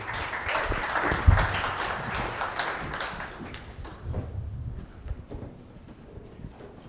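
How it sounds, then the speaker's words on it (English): A conference audience claps steadily for several seconds, loud at first and gradually thinning out to scattered claps and quiet room noise. "a big round of applause for Chris and Michael"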